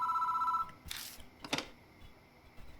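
A ringing telephone in the game Spirit Hunter: Death Mark trills steadily for about half a second, then stops, followed by two sharp clicks and rustles like a receiver being handled.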